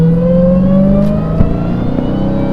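A Hellcat car engine at full throttle during a 0-60 acceleration run, a loud, steady, close drone with rising tones and no voices.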